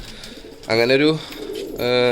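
Pigeons coo in two low, rolling bursts close by, with a person talking over them.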